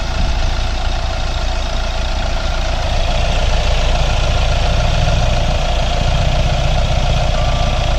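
A Hyundai i20 with a 1.4 litre diesel engine idles steadily, its even mechanical hum and faint knock running unbroken and close for several seconds with no one talking.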